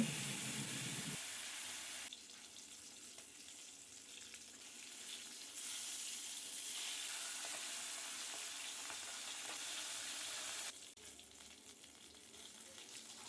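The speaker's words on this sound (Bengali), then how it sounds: "মাছের মাথাকে আমি এইভাবে ভেজে নেওয়ার পর" A fish head fries in hot oil in a pan, a continuous quiet hissing sizzle that swells and drops in level a few times, close and unaccompanied by voices.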